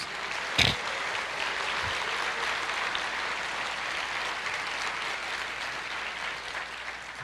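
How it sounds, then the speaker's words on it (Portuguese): A church congregation applauds during a worship service, a dense, even wash of clapping that holds steady throughout after one sharp knock near the start. "Você pode aplaudir o Senhor, dizer glória a Deus"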